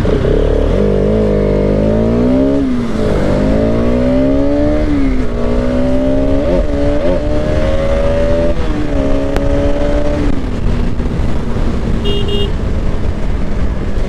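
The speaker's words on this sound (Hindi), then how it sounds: "आरएस की आवाज क्या बूम आ रही है भाई" KTM RC motorcycle engine revving loudly up close, rising and falling throttle sweeps with a harsh buzzing exhaust tone held over several seconds, continuous and dominant.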